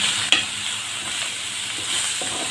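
Spices and green chili being stirred together in a frying pan for masala matar: a constant close sizzle with one sharp clink of the utensil early on and soft scraping, no voices.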